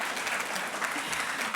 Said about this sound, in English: don't give me a clap